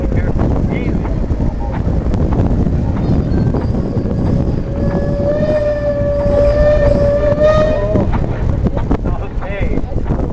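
A steam traction engine at a tractor show in Vista, California, blowing a steady whistle for several seconds. It rises over loud wind noise and rumbling machinery, with people talking around it.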